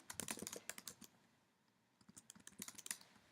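Fingers type on a computer keyboard, rapid close clicking keystrokes in two bursts separated by a brief quiet pause, crisp and alone without talk.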